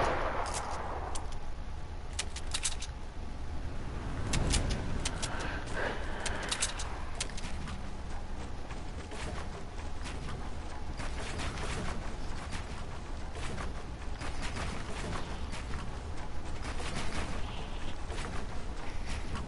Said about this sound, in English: So like this gun, it's loud